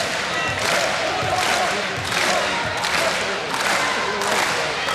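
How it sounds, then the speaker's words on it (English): A volleyball crowd cheers in an arena, a dense, loud, sustained roar of voices with swelling waves and scattered clapping, filling the whole stretch. "Crowd cheering Zarkovic on."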